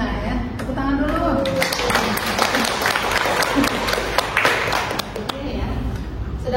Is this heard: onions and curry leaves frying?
no